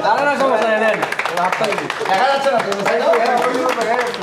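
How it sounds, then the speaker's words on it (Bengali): Hand clapping at a cake-cutting celebration in a showroom, a steady patter of many hands running throughout, mostly buried under loud overlapping voices. "সবাইটা হাততালি দাও।"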